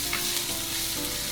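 Chopped onions fry in a pan for minestrone as they are stirred, a dense, even sizzle heard up close with soft scraping underneath and no voices.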